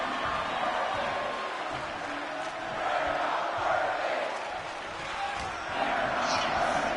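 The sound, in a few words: wrestling arena crowd cheering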